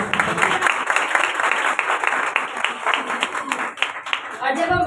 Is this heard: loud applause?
yes